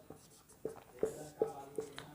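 Notes are written during a world geography lesson: soft, close tapping and scratching strokes in a fairly regular rhythm, about one every few tenths of a second, with faint murmuring in the quiet room.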